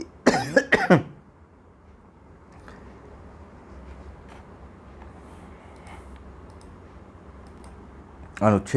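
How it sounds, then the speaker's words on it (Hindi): A few harsh, close coughs burst out at the start, followed by quiet room noise with faint clicks, then another cough at the very end. "खांसी बहुत तेज आने लगी, गला अब सूख रहा है"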